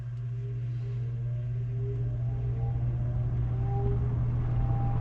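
An old box fan motor starts on its low setting, giving off a steady low hum with a faint whine that slowly rises as the blades spin up. The drone stays even and continuous throughout, with nobody talking over it.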